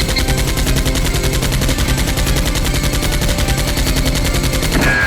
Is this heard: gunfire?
yes